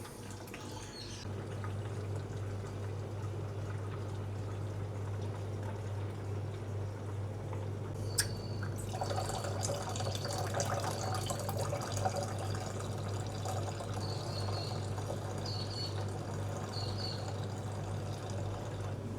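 Star San sanitizer drains from a keg line into a jug as a steady, soft trickle and pour of liquid that holds on evenly throughout, with one small knock partway through.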